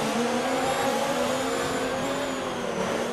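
A Mercedes-engined Racing Point Formula 1 car in F1 2019 screams along a long straight, its high engine whine holding steady with slight pitch shifts, loud and continuous with no talk.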